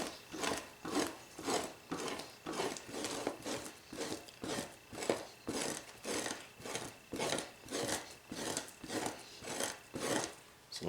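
Rhythmic rasping strokes of a fleshing tool scraping fat and flesh from a fur hide, repeating roughly once per second, close and steady with no talk.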